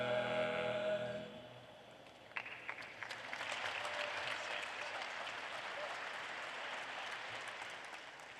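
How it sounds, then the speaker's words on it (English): At a winter university commencement, a sustained choral chord fades out, then the audience breaks into broad, steady applause from a large crowd that continues evenly to the end. "Let's give them another round of applause."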